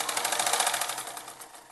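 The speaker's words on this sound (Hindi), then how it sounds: "फिर इसमें ले लेनी है बैक सिलाई" Sewing machine running a continuous back stitch through folded kurti fabric with buckram, a steady rapid whirring clatter of needle strokes, close and alone.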